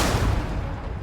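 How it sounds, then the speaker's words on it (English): Heavy gunfire from the Mass Effect 2 video game: a dense, loud burst of rattling shots that fills the whole short moment and fades slightly at the end. "Taking heavy fire."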